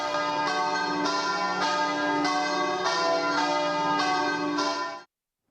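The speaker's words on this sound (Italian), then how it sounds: "nel doloroso silenzio scandito solo dal suono delle campane" Several church bells peal together in overlapping, resonant strikes, a rich continuous clangor that ends abruptly after about five seconds.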